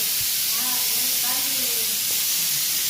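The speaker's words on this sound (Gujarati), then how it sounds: "દાળની સીટી વાગે છે" Steam hisses steadily from a pressure cooker cooking dal, a continuous loud airy rush with faint wavering whistle tones rising over it, heard close up for a few seconds without speech.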